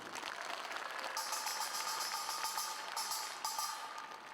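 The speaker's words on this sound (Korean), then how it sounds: "한번 뜨거운 응원의 박수 부탁드립니다" A studio audience applauds warmly for a South Korean lawmaker. The clapping is steady and fairly quiet, with brighter bursts of claps rising partway through.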